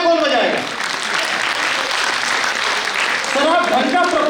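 Crowd applause at a poetry gathering in New Delhi, dense and steady clapping lasting several seconds, with brief voices at the start and end.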